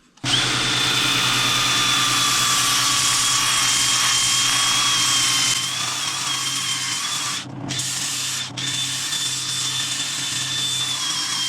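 A wooden bowl spinning on a woodturning lathe while being sanded from 80 to 400 grit, a loud steady motor whine with a constant abrasive hiss, briefly dipping twice near the end.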